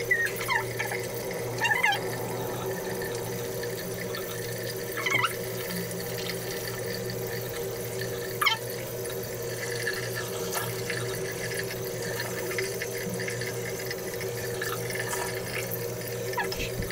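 Tap water runs steadily into a bathroom sink while a face is rinsed after washing with donkey-milk soap, a continuous close hiss with a few brief splashy bursts.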